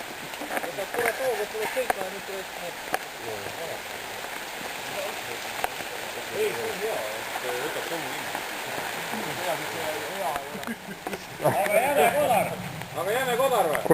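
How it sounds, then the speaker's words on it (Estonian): Rain patters steadily on surfaces outdoors in a continuous close hiss of drops, with people talking over it throughout. "Õige vihmasabin."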